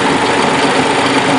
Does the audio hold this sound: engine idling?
yes